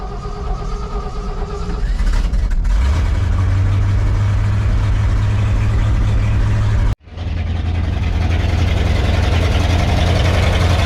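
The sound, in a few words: Ford F600 truck engine starting and idling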